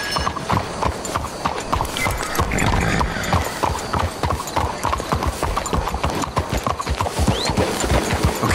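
Horse hooves clip-clopping in the Red Dead Redemption video game, a steady rhythmic trot of sharp hoofbeats, close and loud throughout with faint background ambience.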